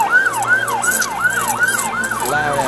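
A wailing siren on a bicycle rises and falls in a steady repeating cycle, loud and close, with low engine rumble beneath; it sounds like a voice imitating a police siren.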